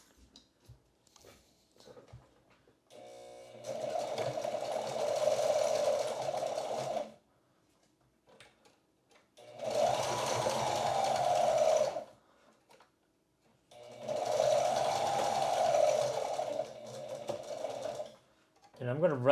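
Sewing machine stitching a two-point rifle sling strap, running in three steady bursts of a couple of seconds each with short pauses between them, loud and close with no talk over it.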